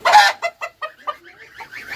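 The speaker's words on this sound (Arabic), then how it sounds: "حطيت لهم الديك الفيومي ده" Fayoumi rooster with a flock of chickens on a rooftop poultry setup, giving a run of close, clear clucks in a quick, uneven rhythm, one loud squawk first and softer calls trailing after.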